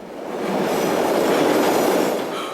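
A train rolls past on the rails in a scene from the Korean film Peppermint Candy, a steady, loud rumble with a faint clatter of wheels that swells in and eases off over a few seconds.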